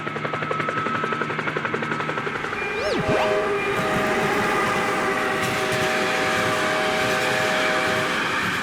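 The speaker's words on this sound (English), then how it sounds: "High-speed train," A high-speed train rushes past with a loud, broad roar and a swooping tonal sweep, its rumble continuing steadily afterward.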